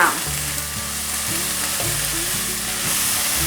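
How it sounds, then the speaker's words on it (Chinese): Cabbage and glass noodles with white mushrooms, seasoned with rose salt and pepper, sizzle steadily in a pan while a spatula scrapes and tosses them in quick, repeated strokes, close and without talk. "现在可以来调味了，1茶匙的玫瑰盐，半小匙的胡椒粉，快速的翻炒。"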